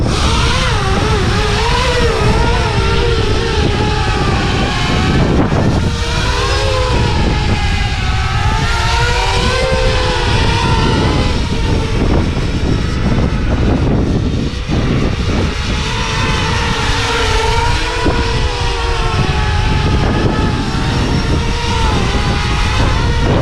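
An 8-inch Siccario Cinelifter drone carrying a 2 kg LiPo pack flies outdoors, its propellers giving a loud, steady, close buzzing whine that rises and falls with throttle changes throughout, with no talk.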